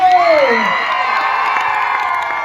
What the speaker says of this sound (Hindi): पिंड आयो स्वागत ताली मार दो